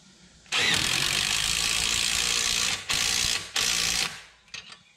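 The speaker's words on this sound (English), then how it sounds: "you want to tighten up your U-bolts in a cross pattern" A loud, continuous burst of ratchet clicking while U-bolts are tightened on the leaf springs of a 2016 EZGO RXV golf cart. It comes in three close runs with brief pauses between them, followed by a few faint clicks.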